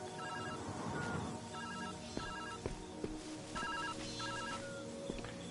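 A telephone rings in the puzzle game Viewfinder, repeated bursts of a trilling electronic bell spaced about a second apart over soft background music, with a few sharp clicks in between.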